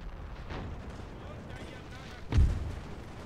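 A single deep cannon shot from Napoleonic artillery in Napoleon: Total War booms late in the moment, preceded by a fainter distant thud over low battlefield ambience.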